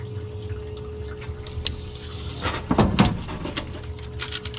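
Transmission parts from a 6L80 rebuild are rinsed by hand in solvent, with liquid sloshing and splashing close by that swells to a burst of dribbling near the middle before settling.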